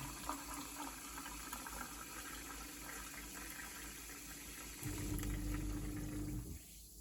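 A Grohe Blue kitchen tap runs carbonated water into a glass at the sink with a steady hissing flow that grows fuller and louder near the end before cutting off.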